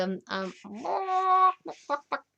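A person's voice imitates chicken clucking and squawking with a few choppy syllables, one drawn-out cluck and short clipped bursts, loud and close over silence.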